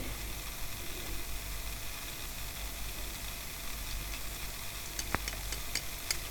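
Thin strands of chhana (fresh cheese) drop into hot oil and fry with a steady, even sizzle and a soft hiss that continue throughout, with a few sharper crackles and spits toward the end.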